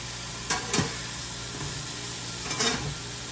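Smash burger patties sizzle steadily on a hot griddle, a constant hiss with a few brief scraping clanks of a spatula near the start and again toward the end.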